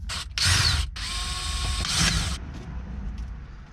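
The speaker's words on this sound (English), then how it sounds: "the next step is to take out these 3 screws up here." Ratcheting clicks from a tool backing out screws while a Mazda Miata is worked on during an aftermarket wheel install, in two loud close bursts around a pause, then fading to quieter rattling, with no talk.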